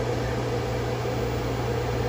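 A Commercial Chef 700-watt microwave oven running on solar battery power, giving off a loud steady hum with constant fan whir and no change in level throughout.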